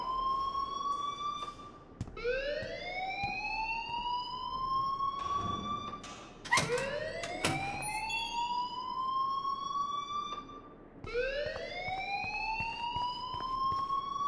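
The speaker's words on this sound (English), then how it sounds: "please turn off that alarm since that's your job" A loud electronic alarm rings in Life is Strange, sounding as repeated rising whoops that sweep upward in pitch, with a cluster of sharp harsh blasts partway through, continuing steadily with no talk.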